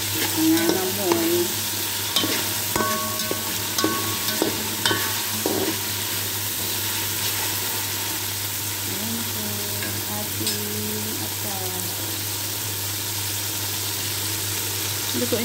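Pancit canton with bihon noodles stir-fried in an outdoor dirty kitchen, a loud continuous sizzle broken by repeated scraping and clanking of the utensil against the pan, with a steady low hum underneath.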